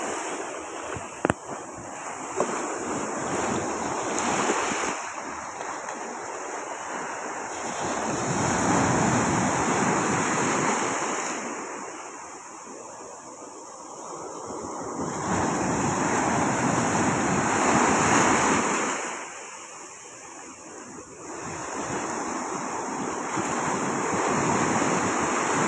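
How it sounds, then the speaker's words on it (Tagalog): Ocean waves roll in and break at the shore in slow surges, each swell rising into a broad wash and receding, with wind noise steady over the mic and no voices. "hintay mo lang mawala ang alon"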